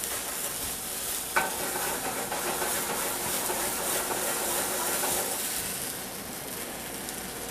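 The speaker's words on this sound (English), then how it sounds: "So we're going to burn that alcohol out of there." A pan sizzles and hisses steadily as alcohol burns off before braising, with a sharp clank near the start and continuous frying noise throughout that eases slightly toward the end.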